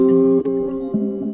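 An unprocessed one-shot piano-like sample plays forward and dry, a single sustained tonal chord with a soft bump partway through, decaying over about a second.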